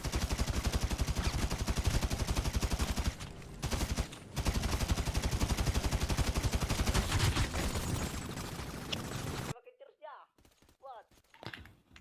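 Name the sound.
gunfire in a roleplay video game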